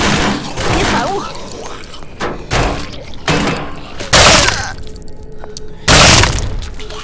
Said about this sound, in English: That explosion got me a little bit through the doorway.